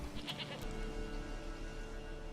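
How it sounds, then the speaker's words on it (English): A goat bleats in the video game Witcher 3, one short wavering call close by, followed by quiet ambient background. "There's a goat."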